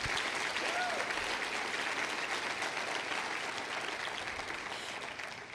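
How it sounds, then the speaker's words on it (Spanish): A congregation applauds during a Christian sermon by Cristina Acuña, a steady wash of many hands clapping at even volume that tapers slightly at the end. "Démosle ese aplauso a Jesús."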